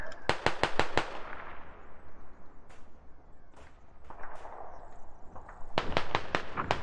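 Gunfire in an Ops mod military shooter game: a rapid burst of sharp shots opens, then scattered single cracks echo across the field, and another fast volley closes out, loud and close throughout.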